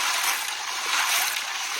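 Ghongi snails are swished and rinsed in water, a continuous close splashing and sloshing without pause or voices.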